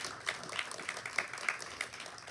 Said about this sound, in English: Let's give a round of applause for this group of people who put this weekend on.